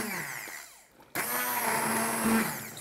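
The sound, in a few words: hand blender pureeing green vegetable soup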